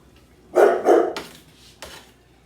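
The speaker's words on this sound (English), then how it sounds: "I don't know what he's barking at." A dog barks three or four times in quick succession, loud and close, followed by a softer final yip.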